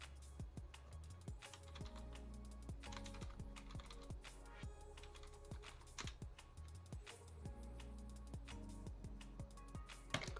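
Steady, rapid typing on a computer keyboard, close and clear, with uneven bursts of keystrokes and short pauses over about ten seconds, no talk.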